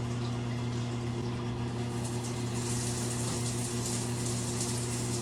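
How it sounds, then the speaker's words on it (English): A WLJBIDET smart bidet toilet seat sprays water in a steady, forceful hiss over a constant low electric pump hum, close and continuous with no pauses or talk. "As you can see, it's really powerful, the water blast, and you can make it stop easily."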